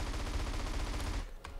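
Rapid gunfire in GTA San Andreas rattles steadily for over a second, loud and dense, then cuts off, leaving a lighter single shot or impact in the quieter tail.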